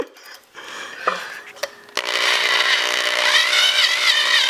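A power tool enlarges a bolt hole in a Mazda Miata flywheel, whining loudly and steadily after a few short clanks and knocks.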